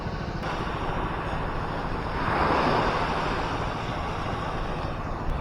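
Calm sea waves wash steadily onto a beach, a continuous broad surf rush with light wind noise on the microphone and one gentle swell near the middle.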